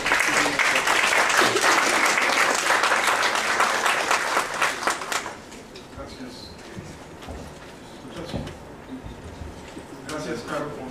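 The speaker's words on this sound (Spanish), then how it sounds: "Les pido un fuerte aplauso" Audience at an academic talk applauding to welcome a speaker, loud dense clapping for about five seconds that fades into quieter room noise with a few scattered claps and some talking.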